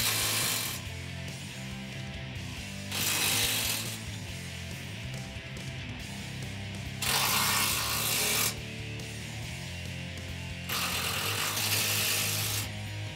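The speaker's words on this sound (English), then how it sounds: "last thing is you snug up the bottom with a 17 millimeter socket" Ratchet with a 17 mm socket snugging the bottom bolts of a Rough Country 3-inch black bull bar on a 2007-2021 Toyota Tundra, with bursts of rapid clicking alternating against steady mechanical background noise, close and fairly loud.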